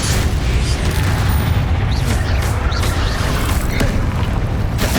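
Confringo and Incendio spell blasts in Hogwarts Legacy crackle and boom through dense, continuous combat noise, with short bursts popping over a loud rumbling bed.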